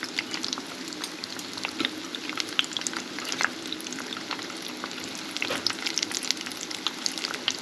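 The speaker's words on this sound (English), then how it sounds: "I have the oil on high right now, and we just want to crisp up the batter on the outside." Battered chicken double frying in oil on high heat, a steady dense crackle and sizzle with scattered sharper pops, close and continuous with no talking.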